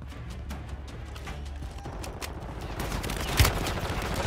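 Rapid bursts of gunfire from a Call of Duty battle, a dense crackle of shots over a steady rumbling background, with one sharper, louder blast near the end.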